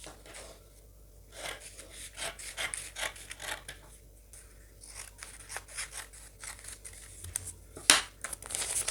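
Scissors snip repeatedly through scrap fabric for a sewn bra top, close and crisp, a series of uneven cuts with soft rustling of cloth between them.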